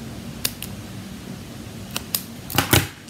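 Scissors snipping away a small piece of material, several crisp close clicks spaced out, with a quick cluster of snips at the end over a quiet room hum.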